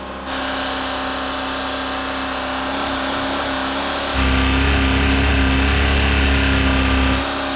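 A Porsche engine drained of its oil screams continuously at full throttle, a steady sustained whine that steps up louder midway, holds for a few seconds, then drops back.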